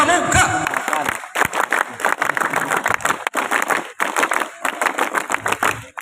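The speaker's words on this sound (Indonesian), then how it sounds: "2 kali tepuk pramuka." A crowd at a scout gathering performs the rhythmic scout clap, with dense bursts of patterned clapping mixed with group voices chanting along, close and fairly loud.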